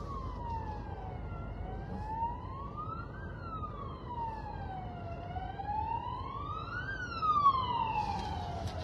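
Ambulance siren wailing through a street, a rising and falling two-tone sweep repeating steadily, moderately distant at first and growing louder and closer toward the end over low traffic rumble.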